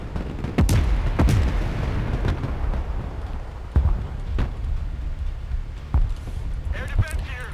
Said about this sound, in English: engage the artillery, please.